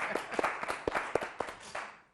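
Scattered, sparse clapping from a small audience applauding a pastor and a doctor after a discussion, a handful of distinct claps at uneven intervals, fairly faint.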